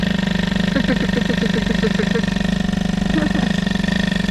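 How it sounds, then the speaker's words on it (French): A small engine idles steadily and evenly up close, a smooth continuous putter with a faint voice briefly audible underneath. "On dirait un moteur à injection presque, tellement c'est régulier."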